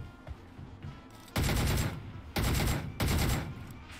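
A DP-28 light machine gun fires in PUBG Mobile, three short loud bursts of a few rounds each, separated by brief pauses, with no talk over them.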